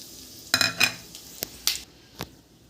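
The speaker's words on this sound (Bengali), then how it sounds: "তেল গরম হয়ে গেছে, শুকনো লঙ্কা তেজপাতা ফোড়ন দেব" Dried red chillies and bay leaves hit hot oil in a kadai, a few sharp crackling bursts and utensil scrapes and clinks, close by, with quiet gaps between them and no speech.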